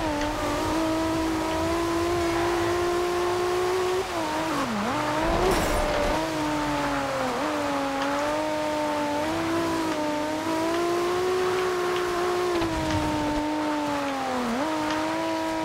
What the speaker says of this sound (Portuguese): para mostrar o ronco do motor para vocês.